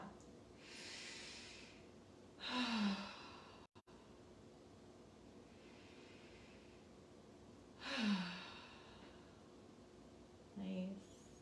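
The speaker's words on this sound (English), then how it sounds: "Let's take 2 letting go breaths." Two deep breaths taken during a yoga practice, each a slow nasal inhale followed by a loud, airy exhale through the mouth, with a third breath beginning at the end, close and alone in a quiet room.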